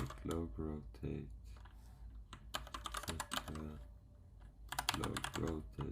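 Keys clatter in quick bursts as a command is typed on a computer keyboard at a Cisco IOS command line, heard close up while someone talks over and between the keystrokes.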